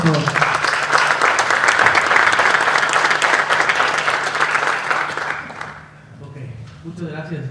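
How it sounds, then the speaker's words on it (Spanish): Audience at a law association lecture in Chiapas gives the speaker a loud, sustained round of applause that fades after about five seconds, followed by a voice speaking. "Démosle un fuerte aplauso a nuestro ponente, por favor."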